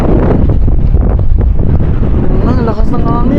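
Strong wind buffeting a microphone beside a river while fishing, a loud, rumbling low roar; a voice speaks briefly near the end over the gusts.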